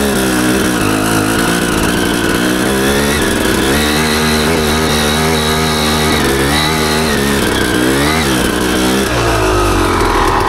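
An enduro motorcycle climbs a hill, its engine loud and close, revving hard and continuously with pitch rising and falling as the throttle works against the slope.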